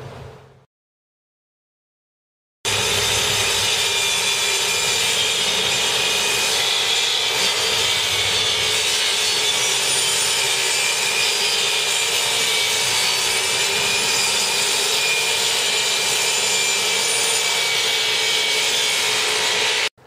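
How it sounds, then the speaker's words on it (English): A power saw rips through plywood sheets cut to fit kitchen cabinets for new countertops, a loud continuous whining roar that starts abruptly after a short quiet moment and runs steadily without a break. "measure your cabinets and cut your plywood to fit"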